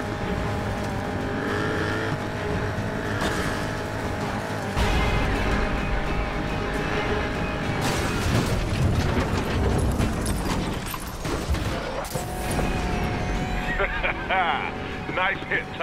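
Race cars roar and rev through a Need for Speed chase on PC, engines surging with tire squeals and impacts, under a game soundtrack and bursts of character dialogue throughout.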